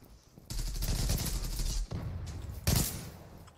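Gunfire in the online shooter game Zula aimed through glass, heard as a few dense, loud bursts of rapid shots separated by brief gaps.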